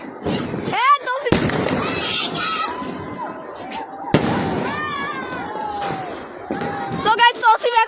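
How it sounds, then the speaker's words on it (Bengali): Sharp bangs and crackling pops of fireworks go off outdoors while excited voices shout and talk over them. "so guys আতশবাজি ফুটাইতেছে"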